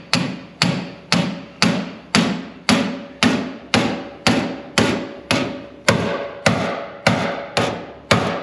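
A heavy hammer strikes a ball joint fork on 58-year-old steering and suspension about fifteen times in a steady, even rhythm, each sharp clang ringing briefly before the next blow.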